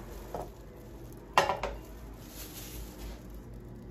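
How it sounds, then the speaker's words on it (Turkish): A spoon stirs plums and sugar together in a pot for jam, making a few soft clinks and scrapes against the pot, including one sharper knock, over a quiet background. "şekerle eriği bir kaşık yardımıyla güzelce karıştırıyorum"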